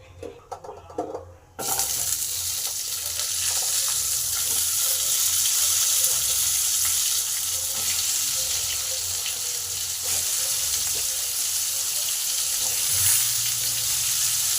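Potatoes dropped into hot oil already holding bay leaf, five-spice and garam masala, a sudden loud hiss followed by a strong, steady sizzle, close and continuous with no talk.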